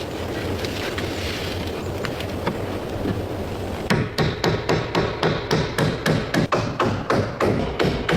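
Hammer blows drive thin wooden battens onto the edge of a log cabin's wooden roof, a steady series of sharp, close strikes about twice a second after a stretch of outdoor noise.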